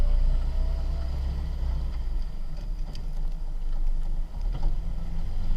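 A 1948 Willys CJ-2A jeep engine drones loud and low while driving, with a steady rumble and wind-like roar that swells slightly partway through.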